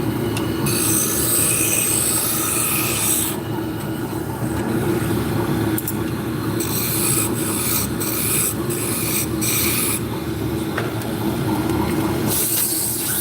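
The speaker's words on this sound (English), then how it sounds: "This is hard maple that we're turning." A wood lathe spins hard maple into Turkish drop spindle shafts, with loud, continuous rasping and scraping from the cutting tool that swells and fades in bursts as cuts start and stop, and no talking.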